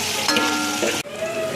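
Chicken pieces frying in hot oil for biryani, a steady close sizzle with a brief stirring scrape partway through.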